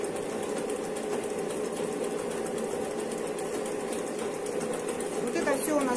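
A sewing machine stitches a second pass along a trouser waistband seam, humming steadily and continuously up close throughout.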